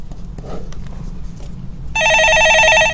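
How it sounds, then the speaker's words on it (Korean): A studio desk telephone on a Korean stock-market call-in broadcast rings loudly for about a second of bright electronic trilling, cutting in sharply after a quiet stretch of room murmur. "예, 전화 받아보겠습니다."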